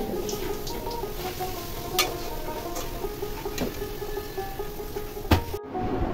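Papad frying in hot oil in a home kitchen, a steady crackling sizzle with scattered sharp pops and a louder burst near the end, close by with no talk.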